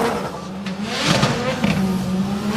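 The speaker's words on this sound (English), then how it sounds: "The anti-lag bangs from the back of the car as he comes off the line" A BMW 2 Series drift car at a Drift Masters competition in Finland revs hard pulling off the start line, engine roar and tire noise continuous with sharp anti-lag pops and bangs, a commentator talking over it.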